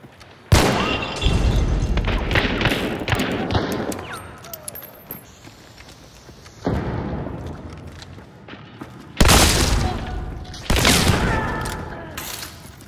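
Loud gunshots from a first-person shooter match in Hunt: Showdown, with several sharp blasts and heavy booming reports at irregular intervals, each trailing into a long rumbling echo.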